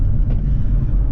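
Deep, heavy rumble from a tuned BMW M140i's B58 engine, loud and close, with a brief blip of revs near the start before it settles into a steady low drone.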